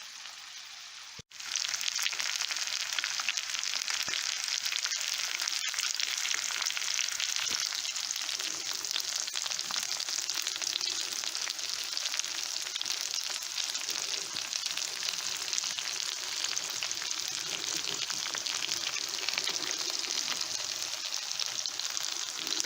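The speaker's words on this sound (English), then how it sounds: "that's going to take about at least 10 minutes on medium, because you want the cauliflower to be done inside" A cauliflower steak fries in a pan on medium heat, its even, crackling sizzle holding steady and fairly close for about twenty seconds with no voices.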